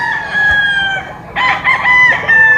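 A Boston High Action gamecock rooster crows in two close, loud bursts, a long harmonic call followed by a second ragged crow, with no talk over it.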